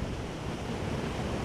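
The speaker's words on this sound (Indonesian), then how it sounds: "Di luar anginnya gede banget, sumpah." Strong wind blowing outside a house, a steady, loud, broadband roar with no breaks, filling the whole short stretch with no voices.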